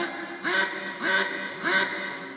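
A duck call imitates a mallard hen's quack: three evenly spaced, nasal quacks about half a second apart, fairly close and loud, with no talking.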